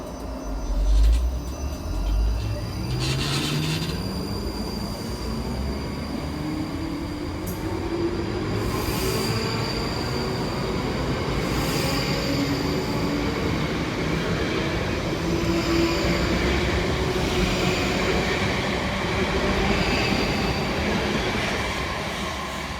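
South Western Railway electric units 458402 and 458414 pass through Martin's Heron station, loud and close, a rising motor whine over rumbling wheels that swells and holds for the full length.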